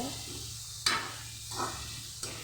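Onions sauté gently in a pan over a low flame for onion chutney, a faint soft sizzle with a few brief spoon scrapes, close and quiet with no voices.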